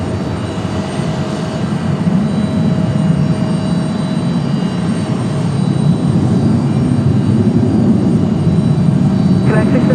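A United Boeing 737-700 jet at Raleigh Durham airport gives off a sustained, loud engine roar that builds slightly over the stretch, steady and close.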